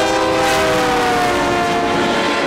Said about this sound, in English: the train came barreling down the tracks